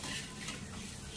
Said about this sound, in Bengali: এবার আমি সিমাইটাকে দিয়ে দিলাম, দিয়ে ভালোভাবে ফ্রাই করি।